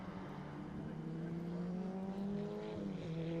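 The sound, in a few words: Formula 1600 race cars at Levels Raceway Timaru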